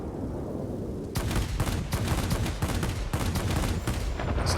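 Machine gun fire from a Messerschmitt aircraft strafing ground targets in World of Warplanes comes in rapid bursts after a quiet start. A few short breaks separate the loud, dense rattling.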